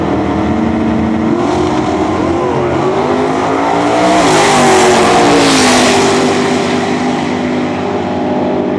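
A Plymouth Road Runner GTS drag race car roars loud and close, its engine revving and sweeping through rising and falling pitch as it launches and accelerates, with a broad hiss of tire and exhaust noise peaking mid-run before easing off.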